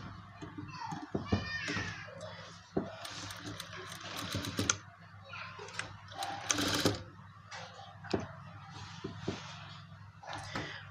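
Sewing machine stitching the side pocket of a pair of trousers, running in short bursts with pauses, close and moderately loud, mixed with clicks and handling noises of the fabric.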